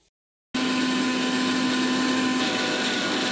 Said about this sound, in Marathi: साखर आणि विलायची मी एकत्र मिक्सरमध्ये फिरवून घेणार आहे